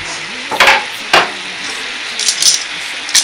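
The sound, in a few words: onions added to sauce simmering in a pan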